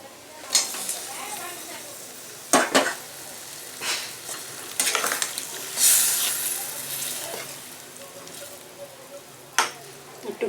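Raw jackfruit chunks tipped into hot oil in a pan for a Bengali echor paturi, sizzling steadily with sharp bursts as pieces land and a spatula scrapes and stirs, close and fairly quiet.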